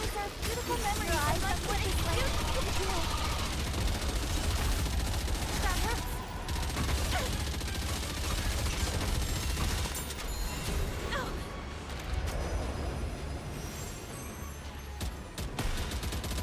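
Rapid enemy gunfire in the shooter game NIKKE keeps up a dense, loud barrage of continuous shots, with a person talking over the constant firing throughout.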